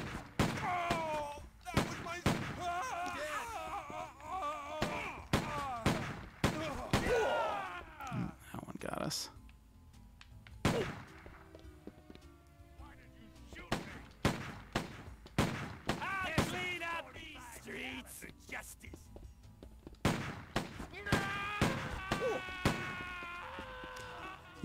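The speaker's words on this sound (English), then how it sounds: "now we're back to normal shooting" Gunfire in Stubbs the Zombie comes as repeated sharp shots scattered across the clip, some in quick bursts, interleaved with a person talking over them.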